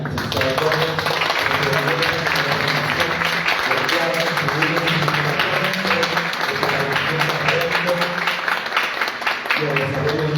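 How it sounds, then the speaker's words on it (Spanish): Audience applause at a university event fills a large hall as a steady, dense wash of clapping that runs the whole stretch, mixed with a voice and sustained tones. "deberíamos darle otro fuerte aplauso"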